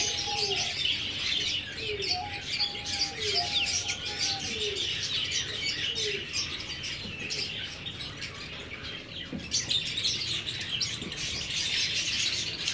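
Desi hen chicks chirp in a steady stream of small, high peeping calls, close and continuous over a soft outdoor background.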